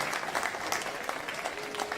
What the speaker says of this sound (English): We can give a round of applause to each and everyone that's being here